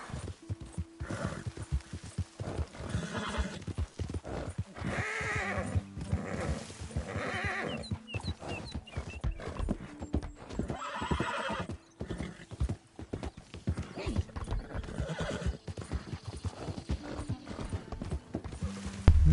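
A horse in Red Dead Redemption 2 clip-clops along with steady hoofbeats and lets out loud neighs and whinnies, the hooves shifting in pace through the stretch.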